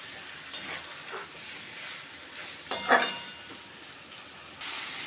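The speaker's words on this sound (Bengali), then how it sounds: "এখন আমি পনিরগুলো দিয়ে দিলাম, মশলার সঙ্গে ভালো করে মিক্স করে নেব" Paneer frying with spices in a pan gives a soft, steady sizzle, with a few scraping stirs and a brief louder clatter midway.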